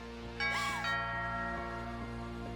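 A two-tone ding-dong doorbell chime rings out in the video game What Remains of Edith Finch, clear and ringing, its tones decaying slowly over a steady sustained musical drone.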